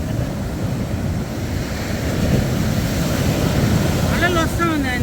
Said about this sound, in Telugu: అలలు వస్తా ఉంది ఆయన దగ్గరికి.